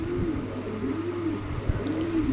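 A one-tail fancy pigeon coos in a steady run of rounded, repeated low calls, close and fairly loud, with a faint background hum and no talking.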